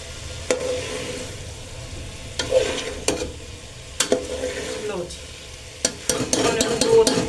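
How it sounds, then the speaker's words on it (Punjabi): Aloo gobi, a potato and cauliflower curry, sizzles softly in a pan while a ladle stirs it, with sharp scraping clicks and clatters at irregular intervals over a steady low fry. "ਸਬਜ਼ੀ ਆ ਜਿਹੜੀ ਆਪਣੀ ਪੱਕਦੀ ਹੋਈ ਹੈ"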